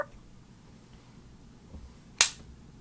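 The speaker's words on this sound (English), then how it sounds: "that was the sound of my bootleg AirPods closing" A cheap knockoff AirPods charging case snaps shut in one sharp, brief click against a quiet room background.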